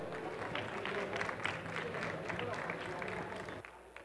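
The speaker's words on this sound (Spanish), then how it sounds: "Le damos un fuerte aplauso," Audience applause rings out for a speaker at a fintech conference session, a dense, steady clapping from a crowded room that lasts several seconds before fading.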